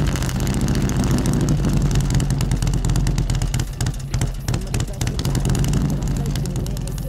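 Harley-Davidson Twin Cam Softail with a big-cam 107 build running after a hot start, a loud, close, uneven lumpy idle that lugs and sags as if near stalling, with someone speaking over it.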